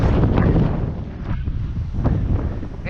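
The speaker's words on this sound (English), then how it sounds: "And it's stupid windy" Strong gusting wind beside a river in March buffets the microphone with loud, continuous low roaring that surges and eases, with no voices over it.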